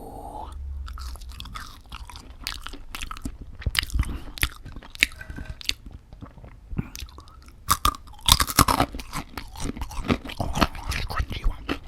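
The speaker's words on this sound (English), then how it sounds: "I'm going to eat my chips." Crunchy chips are bitten and chewed close to the microphone, giving irregular loud crunches and smaller crackles, with a few soft words between bites.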